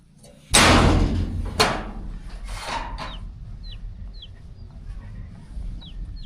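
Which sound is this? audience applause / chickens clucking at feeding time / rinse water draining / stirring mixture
chickens clucking at feeding time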